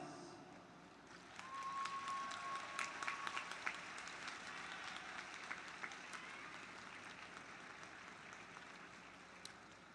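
Sustained applause from a large audience at a college commencement ceremony for natural sciences and mathematics graduates, many hands clapping steadily from start to finish in a large hall, with no talking.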